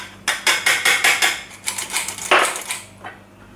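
Baking powder and cocoa are sifted through a metal sieve, which is tapped in a quick, even run of about a dozen close, bright rattles with a short pause partway through. No voices.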